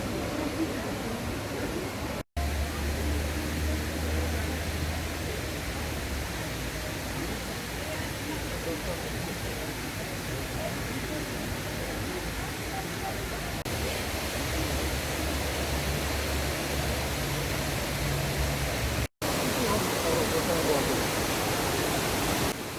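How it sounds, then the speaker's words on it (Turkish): Rushing water roars from Düden Waterfall in Antalya, a dense, steady broadband hiss that stays constant throughout, with a brief cut or two breaking the flow. "Şelalenin tepeden görüntüsü."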